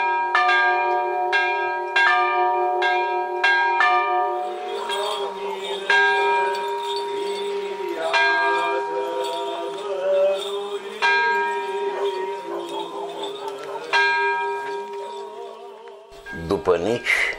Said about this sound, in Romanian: După nici două ceasuri este rândul clopoțelui din biserica de lemn să anunțe a doua slujbă de înviere.